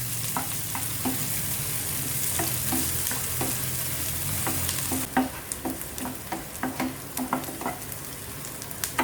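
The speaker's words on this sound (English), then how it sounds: "saute till the onions become little soft." Onions sauté in a pan for palak paneer with a steady sizzle and hiss, then a series of spatula scrapes and clicks as they are stirred, close and moderately loud.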